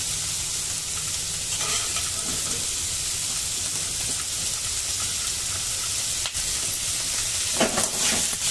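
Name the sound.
capsicum and vegetables sautéing in a pan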